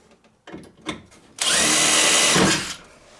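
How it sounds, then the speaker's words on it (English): A drill cuts through the door lock actuator mounts on a Jeep Grand Cherokee ZJ. A couple of short clicks come first, then a loud, steady whir close by for about a second and a half before it winds down. "Then I'm going to drill through both these mounts just to kind of mark where the mount hole locations are."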